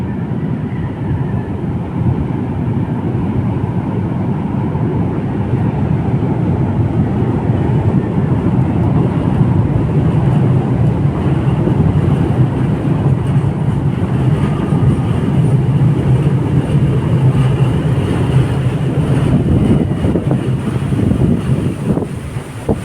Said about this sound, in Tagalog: Ayan ang LRT mga bayan